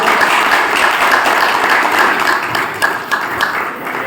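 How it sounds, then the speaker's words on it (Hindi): At a Mahashivratri festival program, the audience claps loudly and continuously, a dense wash of applause that eases a little near the end. "जोरदार तालियां आपकी"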